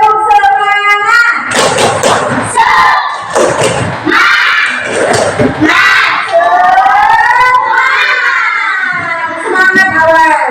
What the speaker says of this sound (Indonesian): Coba Ibu melihat tepuk semangat.